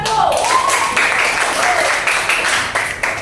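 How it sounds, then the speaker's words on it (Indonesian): A school class claps for a group after its science presentation in the classroom, producing short bursts of applause over a few seconds with voices talking underneath. "Silakan tepuk tangan untuk nomor 1."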